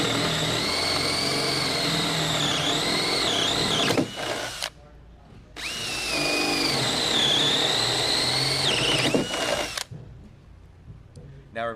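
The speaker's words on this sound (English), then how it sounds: "take a drill with a 5/8 inch paddle bit and drill through the holes that we previously marked" A power drill fitted with a 5/8 inch paddle bit bores through a wooden board for a swing, whining loudly in two long bursts of about four seconds each, separated by a brief pause and ending in quiet.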